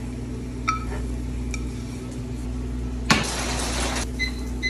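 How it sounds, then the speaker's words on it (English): Chopped shallot and garlic hit a pan with a little olive oil, bringing a sharp metallic clank and then a burst of hissing sizzle that fades after about a second, among scattered light clinks of cookware. "cut up 1 shallot and 2 cloves of garlic and get them toasting on a pan"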